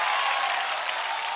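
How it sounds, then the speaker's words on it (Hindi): A studio audience on a music talent show breaks into loud, dense clapping for the top-scoring contestants. It is a continuous, even roar of hands that lasts a little over a second, with no talking. "एक बार जोरदार तालियां"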